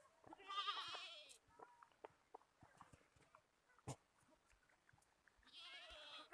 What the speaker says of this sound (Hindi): बकरी के छोटे बच्चे हैं।